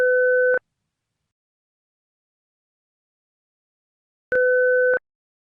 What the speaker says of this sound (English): it will play 3 send-off sounds, 5 seconds apart at the start of each interval